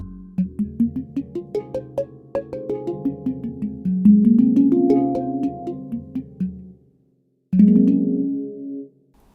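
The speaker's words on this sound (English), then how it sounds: "It's a sample of a handpan, so you can't manipulate the airwaves" Soft, bell-like tones from a sampled handpan played on an electronic instrument, short rhythmic notes then longer sustained ones, with a brief pause near the end.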